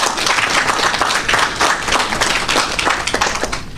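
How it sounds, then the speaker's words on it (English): Dense, sustained applause from a live audience at a project launch ceremony, many hands clapping steadily and loudly throughout with no voices over it. "give them a round of applause"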